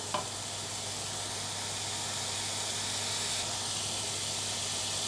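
Wild vegetables stir-fry in a pan with a steady, close, even sizzle and hiss that runs unbroken throughout, with no talking.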